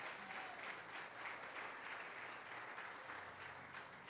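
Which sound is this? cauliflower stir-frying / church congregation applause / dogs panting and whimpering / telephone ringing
church congregation applause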